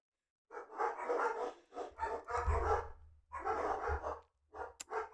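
Several dogs bark in loud, repeated bursts at close range, with short pauses between the volleys and a final quick yip near the end.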